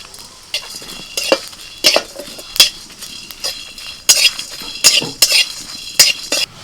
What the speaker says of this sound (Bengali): এই মশলাটাও ভাজা হয়ে গেল